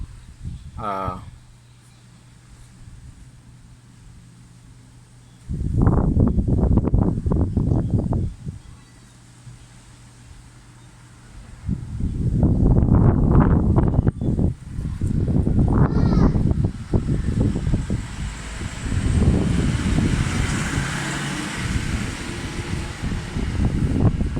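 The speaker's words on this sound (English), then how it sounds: "The day is windy, so that's why I can hear that noise of the wind." Wind buffeting a microphone outdoors on a windy day, loud rumbling gusts in long bursts separated by calmer stretches, with someone talking at times.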